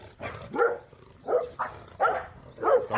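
A dog barks several times in short bursts outdoors, near and fairly loud, with a roughly regular rhythm across the moment.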